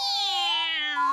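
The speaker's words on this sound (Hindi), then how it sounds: "कोई इस बिल्ली से बचाओ।" A single drawn-out cat meow, loud and close, sliding downward in pitch before a brief rise at the end.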